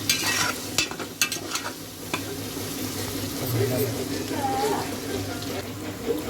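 Tomatoes sautéing in a pan for homestyle chicken biryani, with a soft sizzle under repeated spoon clinks and scrapes, loudest in the first two seconds and then settling into steady frying with a low hum.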